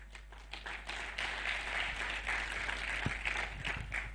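Applause for NCA from a large conference audience at the EACO assembly, dense massed clapping that swells after the first second and holds steady, heard from a distance with a few nearer claps.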